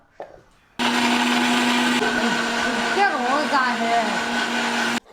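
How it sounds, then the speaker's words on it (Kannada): A kitchen mixer grinder whirs loudly and steadily for about four seconds, blending banana cake batter with melted butter and milk, starting abruptly and cutting off at the end. "ಇದನ್ನು ಗ್ರೈಂಡ್ ಮಾಡೋಣ."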